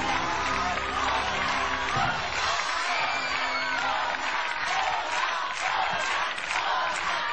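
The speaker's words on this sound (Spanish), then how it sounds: "Y mientras el público sigue aplaudiendo" A standing theatre audience applauds and cheers without pause after a parody performance, dense sustained clapping with scattered whoops filling the whole stretch at steady loudness.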